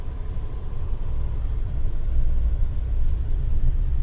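A new pickup truck drives along with a smoother ride than a Ford F-450, giving a steady, close low rumble of engine and road noise throughout with no voices.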